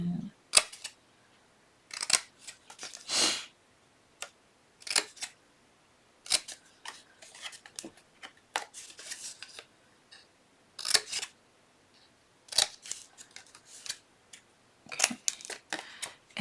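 Scissors snipping through material for a sequin mix jar craft, a string of short, sharp, close cuts spaced with pauses, some grouped in quick bursts, with no voices.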